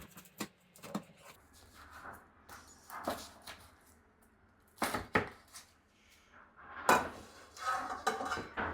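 A knife slices through focaccia on a cutting board in a kitchen, giving scattered crisp cuts and dull knocks against the board with quiet pauses between them.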